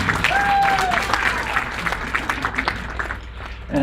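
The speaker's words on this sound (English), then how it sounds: "our great friend Carmichael deserves a round of applause" Audience at an evening panel and mixer event applauding a friend, sustained close clapping with a few voices heard over it early on, thinning slightly toward the end.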